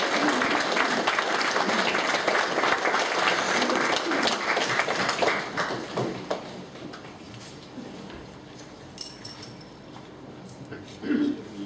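Applause from an audience welcoming a speaker named Al: loud, dense clapping for several seconds that thins out and fades to a few scattered claps.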